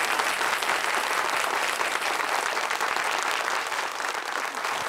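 A studio audience on a Marathi quiz show applauds, a dense, steady wash of many hands clapping at even loudness throughout, with no pauses.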